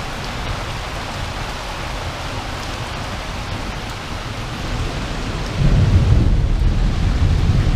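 A thunderstorm with heavy rain hisses steadily, then a deep rumble of thunder swells near the end, loud and close, with no voices.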